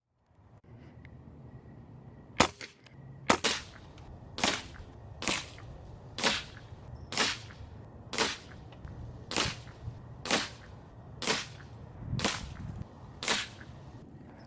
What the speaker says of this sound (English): I think I'm getting rewarded for shooting like 100 rounds right now.